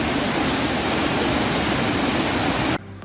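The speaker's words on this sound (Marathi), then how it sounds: "सावडाव धबधब्याला फारशी उंची नसली तरी धबधब्याची रुंदी पर्यटकांना मोठा आनंद देणारी आहे" The Savdav waterfall near Kankavli in Konkan, swollen by heavy monsoon rain, roars as a loud, unbroken wash of falling water close by, cutting off abruptly just before the end.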